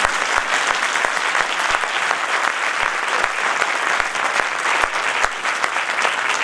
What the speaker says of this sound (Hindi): अगर ताली मारनी है तो जोर से बजाइए।